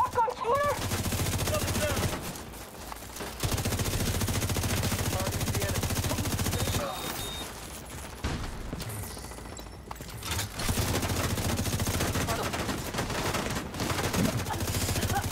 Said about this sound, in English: My ally was shooting me there